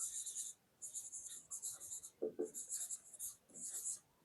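Chalk or marker scratches out a coordinate on a classroom board in several short bursts of writing strokes, close by, with a voice briefly lecturing between them.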